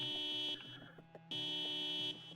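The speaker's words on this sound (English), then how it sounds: "How do we make out which one is causing the alarm here?" Alarm in the video game 1 Buck or Less, a loud repeating electronic buzzer tone that sounds in long pulses separated by brief pauses.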